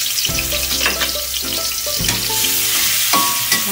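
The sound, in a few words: chillies and garlic stir-frying in hot oil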